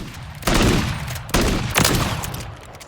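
Winchester Model 1887 lever-action shotgun shots in Call of Duty Modern Warfare III, three loud booming blasts at close range, each trailing off into a long rumbling echo.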